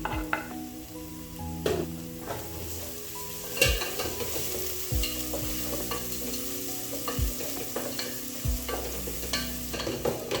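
Garlic and onions frying in oil for chicken pilau, stirred with a utensil that knocks and scrapes against the pot several times over a constant sizzle; no talk.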